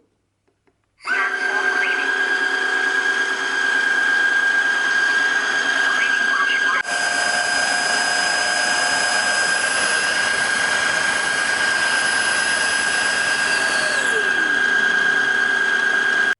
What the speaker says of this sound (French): j'ai remis l'appareil donc sur sa base et il va pouvoir se nettoyer tout seul